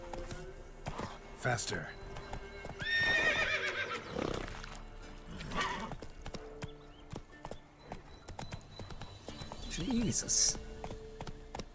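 Roach the horse in The Witcher 3 gallops with brisk, close hoofbeats and lets out loud whinnies early and again near the end, while a person talks over the action.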